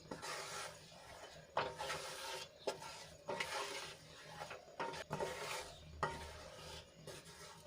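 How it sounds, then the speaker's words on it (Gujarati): A spoon stirs thick tomato sauce with sugar in a pot, with repeated scraping strokes about once a second, close and quiet, with no voices. "હવે ખાંડ ઓગળે અને એનું પાણી બધું બળી જાય ત્યાં સુધી આપણે એને હલાવી લઈશું"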